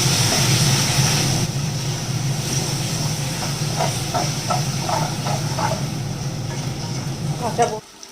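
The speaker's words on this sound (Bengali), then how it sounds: "এবারে এটাকে মশলাটাকে ভালো করে কষাতে হবে" Spice paste with a pinch of salt fries in oil for a duck curry, giving a steady, loud sizzling hiss that runs without a break before cutting off abruptly at the end.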